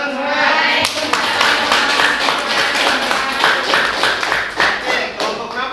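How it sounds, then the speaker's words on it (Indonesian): Classmates clap in a steady burst after a group's class presentation, many hands in a room, sustained and fairly loud, with faint voices underneath. "Tepuk tangan semua."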